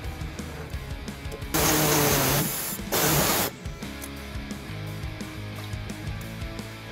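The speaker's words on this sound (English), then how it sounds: "We're going to use an air saw to cut that off." Air saw cutting an inch off a steel post on the bumper beam of a 2017 Hyundai Santa Fe during a trailer hitch install, two loud broadband bursts of roughly two seconds and one second, with quieter workshop noise around them.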